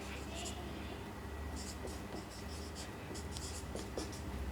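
A pen writes out chemistry notes on a Grignard reagent, its scratchy strokes coming in short, irregular bursts over a steady low background hum.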